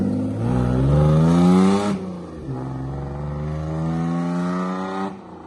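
Racing cars pull out of a turn, with a loud engine whine climbing in pitch, cutting off abruptly, then a second rising run at lower level, heard close without voices.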